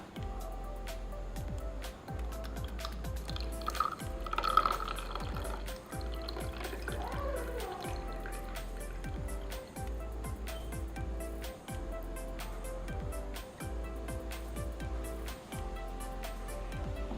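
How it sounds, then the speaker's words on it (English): Warm water is poured from a measuring beaker into a mixing bowl while slime is being made, a soft liquid splash and trickle under a steady, rhythmic background beat. "I am going to pour now 100 ml of it."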